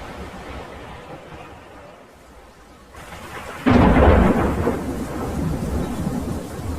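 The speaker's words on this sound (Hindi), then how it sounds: "उस रात भयंकर तूफान आया था।" A violent nighttime thunderstorm with steady heavy rain, then a sudden loud thunderclap that crashes in midway and rumbles on over the downpour.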